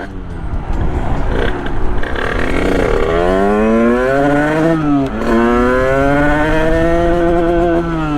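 Small Sherco 50cc supermoto with a big-bore AM6 two-stroke engine, plug fouling, revs loudly and unevenly close by, its pitch rising and dipping as it sputters and bogs, with a brief drop midway before it picks back up.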